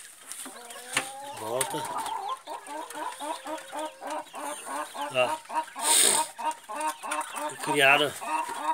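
Tame quails kept in a cage chirp and cluck in rapid, repeated bursts, close by, while someone speaks briefly in Portuguese.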